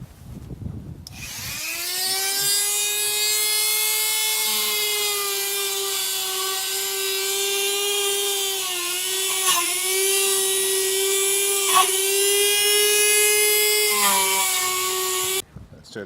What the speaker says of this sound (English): then take a Dremel to it and sand it down so it's nice